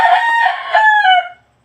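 A Boston Roundhead gamefowl rooster crows once, close and loud, a rising then wavering call lasting over a second before cutting off into silence.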